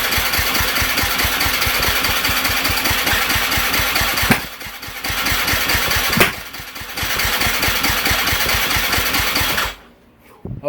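A Yamaha YZ250F dirt bike engine, a 2019–2023 model that had been running on bad fuel, catches and runs with a loud, steady rapid beat, dips briefly twice, then cuts out near the end.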